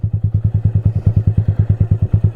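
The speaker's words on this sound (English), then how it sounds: "the clutch is completely out, and the bike is just gonna pull itself on its own" A motorcycle engine thumping at low revs with the clutch fully out, pulling itself slowly uphill, a close, steady, loud rhythmic chug of even putts.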